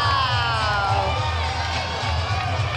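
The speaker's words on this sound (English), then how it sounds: "A restless crowd at the Westchester County Center. They don't like it." A restless crowd at the Westchester County Center boxing match reacts with loud, sustained shouting and jeering after the fight is stopped, the mass of voices rising and falling over a commentator.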